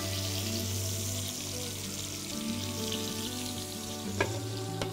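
Koi fish fry in a pan with a steady, moderate sizzle over a low hum, broken by a couple of faint clinks near the end.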